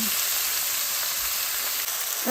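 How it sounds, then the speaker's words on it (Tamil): Onions sauté in a pan for an oats puttu with drumstick leaves, giving a steady, close frying hiss that carries on evenly with no talk over it. "இப்போ கொஞ்சம் வெங்காயம் வதங்கி கொண்டிருக்குது."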